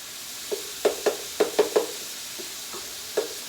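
Ground turkey browns in a pan with rosemary, thyme, salt, pepper and garlic. A faint sizzle runs underneath a scattered series of close utensil taps and stirring knocks.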